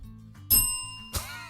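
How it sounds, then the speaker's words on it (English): A small hand bell rings twice, close and bright, each ding decaying with a shimmering ring in an otherwise quiet room. "You want bell responsibilities, you handle the bell."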